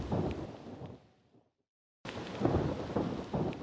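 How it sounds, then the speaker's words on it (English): Steady rain and rumbling thunder on a stormy night, heavy and close, cut off by a second of silence before the downpour and thunder resume just as loud. "the falsely cheerful tunes droned beneath the monotonal pitter-patter of the rain"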